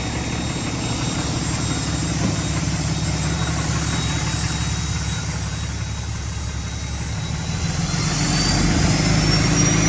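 A diesel pickup truck with no exhaust tip idles loudly and steadily up close, a continuous rumbling roar with a faint rising whine near the end.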